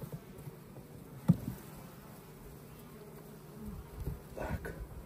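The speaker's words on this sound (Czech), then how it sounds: "Ještě otevřu ty včelky vedle." Honeybees buzz steadily around an opened hive during an April inspection, a dense close drone with a few louder swells and a brief knock, no voices.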